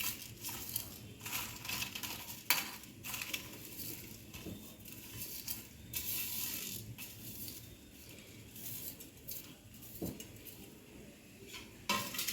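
Whole spices (coriander seeds, cumin, fenugreek and peppercorns) dry-roasting in a pan, with steady faint scraping, stirring and light pattering as a utensil turns them over, plus occasional sharper clinks of metal against the pan.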